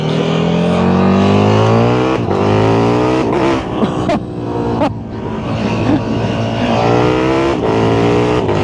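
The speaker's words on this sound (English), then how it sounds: "I stuffed up a gear change there, but that's mild throttle openings, okay?" A KTM Super Duke 1390 R EVO motorcycle in track throttle mode, heard close and loud as it revs up hard through rising pitch sweeps, with brief drops at gear changes, one of them fumbled, then pulls on again.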